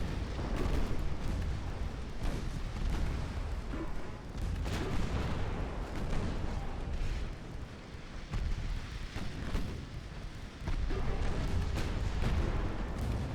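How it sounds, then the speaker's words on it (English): Warship flash fire and explosions in a naval combat video game set in 1914, a sustained roar of booming blasts and rumbling gunfire that barely lets up throughout, loud and dense, with no speech. "And another flash fire. And there goes your X turret as well."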